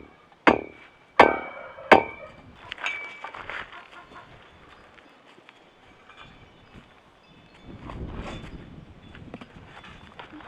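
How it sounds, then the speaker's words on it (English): A dead blow hammer gives three sharp, dull taps in quick succession on a wind generator tower section, then fainter knocks and low rumbling handling noise follow. "take the dead blow hammer,"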